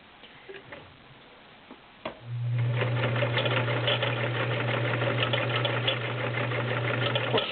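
A vintage Kenmore 1660 convertible free-arm sewing machine stitching through five layers of Levi's denim with a size 16 needle: a few light clicks, then the motor starts and runs with a steady hum and rapid rhythmic ticking.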